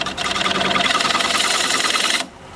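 A wood lathe runs at 600 speed with a loud, steady mechanical whir and rattle for about two seconds before suddenly dropping away to a quieter hum.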